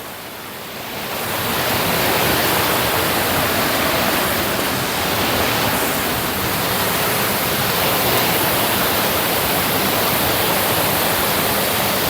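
A hidden waterfall in Cape Town, a loud, steady broadband rush of falling water that swells in within the first second and then holds unbroken, with no voices over it.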